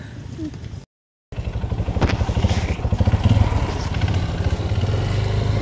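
Motorcycles on a flood detour road, close engines putting along with a steady clattering rhythm that grows louder after a brief cut, continuous throughout.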